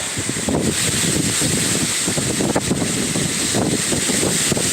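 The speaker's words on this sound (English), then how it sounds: "So there you are, it's windy, it's wild" Strong, steady storm wind in Scotland roars and buffets the microphone in gusts, a constant loud rush with low rumbling surges throughout.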